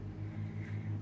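Faint, steady low drone of a lawn mower running in the distance outdoors, a continuous background rumble with no nearby sounds over it.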